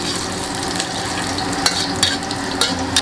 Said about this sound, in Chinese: 再下入蒜片炒香